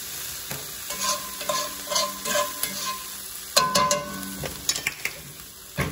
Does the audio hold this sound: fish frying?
yes